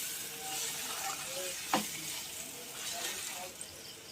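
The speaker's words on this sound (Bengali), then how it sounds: "এবার আমি অ্যাড করছি আদা বাটাটা দিয়ে ভালো করে নেড়ে নেব।" Ginger paste and spices are stirred in a pan for masala pasta, producing a soft continuous sizzle with scraping strokes and one sharp utensil knock, fairly quiet with faint background voice.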